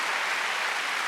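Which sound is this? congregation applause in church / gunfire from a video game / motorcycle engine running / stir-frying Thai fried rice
congregation applause in church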